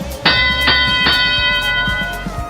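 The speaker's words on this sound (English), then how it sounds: "The gong has sounded" A gong struck to start a robotics competition match rings out three times in quick succession with a bright, bell-like metallic tone, then decays under arena noise.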